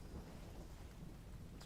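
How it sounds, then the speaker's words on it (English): Rain and rolling thunder in the survival game Enshrouded, a dense low rumble under a continuous rain hiss, fairly quiet and with no talk. "Oh no, it's raining."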